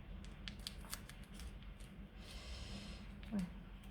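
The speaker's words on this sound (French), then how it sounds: "Hop, un petit bout de scotch, hein, c'est très bien." A quiet rasping rip of tape being pulled and torn, close by, with soft breathing and a few faint clicks around it.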